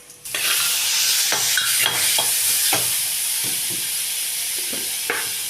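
Shallots and garlic sautéing in sesame oil with mustard seeds and asafoetida, a loud continuous close sizzle broken by repeated stirring scrapes and clicks of a spoon against the pan, with no voices.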